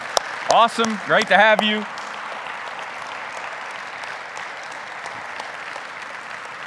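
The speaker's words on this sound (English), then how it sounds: "Let's give them a round of applause." A church congregation applauds a newly baptized couple. Someone speaks briefly at the start, and steady crowd clapping carries on beneath him and continues alone at an even level to the end.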